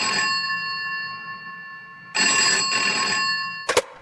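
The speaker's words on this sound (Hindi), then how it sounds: "उसके कमरे का लैंडफोन बजा।" A landline telephone in a room rings loudly with a bright electronic trill, two ring bursts separated by a short pause, followed by a sharp click as it cuts off.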